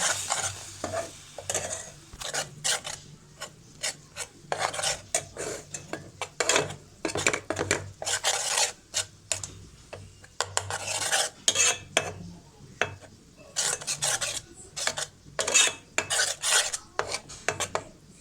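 Whipped cream being stirred briskly in a bowl while making cinema-style sweet popcorn, with repeated scraping strokes of a utensil against the bowl in an uneven rhythm, close and fairly loud, with no talking.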